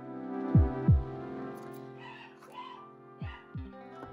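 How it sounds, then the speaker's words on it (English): Sound effects from an online horror video game: two deep heartbeat-like thumps, a sustained eerie tonal drone with faint higher cries, then two more thumps, playing in the background. "my husband was playing a game, like some kind of horror game online, and yeah, that's what the noise is"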